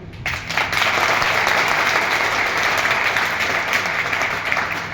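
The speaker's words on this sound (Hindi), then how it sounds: "कौन से तालियां हो जाए भाई?" Steady, full applause from a gathered audience at a religious gathering, continuous and fairly loud throughout with no gaps, a dense wash of many hands clapping.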